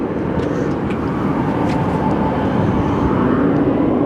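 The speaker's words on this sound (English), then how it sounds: "It's a St. Louis bound 737-800." Boeing 737-800 bound for St. Louis departing Phoenix Sky Harbor Airport, a steady broadband jet roar that fills the whole stretch without pause, with no talking over it.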